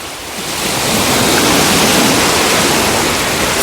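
Steady roar of sea waves washing in at Arcadia in minus-seven frost, loud and continuous, with a broad rushing surf noise and no voices.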